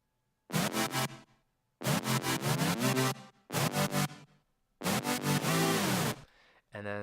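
Synth layer playing a chord-lead part an octave lower to fill it out, four loud sustained bursts with short gaps between them and no voices.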